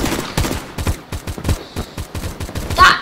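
An SKS rifle fires in the video game Phantom Forces, a rapid series of about a dozen loud, close shots in quick rhythm with short echoing tails.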